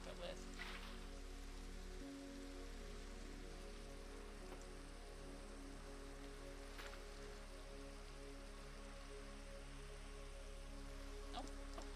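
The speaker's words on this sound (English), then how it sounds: "And now it's gonna rain for us." Rain falls in the video game Minecraft as a steady, even hiss of pattering drops that holds without a break from start to end, soft and constant under a faint low hum.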